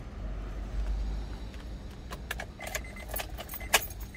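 Honda Mobilio Prestige DD4 (2014) car key with an integrated remote being handled, giving a few close metallic jingles and clinks in the second half over a steady low cabin hum.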